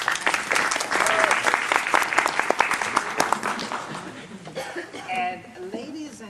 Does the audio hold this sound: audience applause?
yes